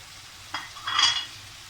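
Fried lobster pieces dropped into a Kerala-style lobster masala and gently stirred, a soft clatter then a short swell of sizzling and scraping in the pan, brief and fairly quiet.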